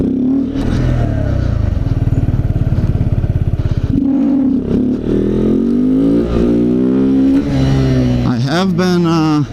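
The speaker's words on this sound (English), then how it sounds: "trying wheelies on the z125" Honda Z125 motorcycle engine revving hard during wheelie attempts, a loud, close, rough exhaust note that rises and falls as the throttle is blipped and held throughout.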